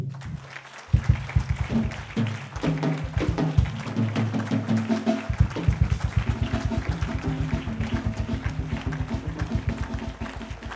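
A church congregation at a Sunday worship service bursts into applause that builds quickly and then settles into loud, steady, rhythmic clapping that continues to the end.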